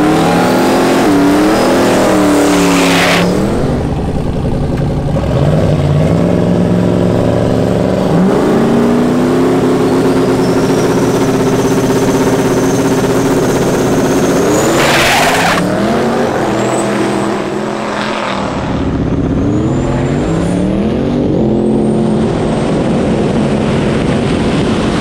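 A loud boosted Firebird drag race car launches down the strip, revving hard and roaring away, the pitch climbing through gear changes, then a second burst of full-throttle acceleration.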